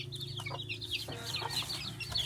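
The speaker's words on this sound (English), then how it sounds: "You got little chickens in here." Soft clucking and high peeping of chicks with their mother hen in a coop at a Philippine family home, faint and close with a low hum underneath.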